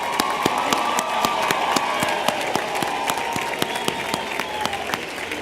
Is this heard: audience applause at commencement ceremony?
yes